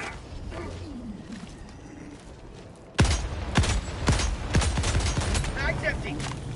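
Gunfire in the shooter game Helldivers 2, a quiet stretch followed by a burst of sharp, rapid shots that continue in clusters, with a voice talking over the action.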